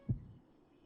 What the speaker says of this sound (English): I think that was the first heartbeat Shublis has ever had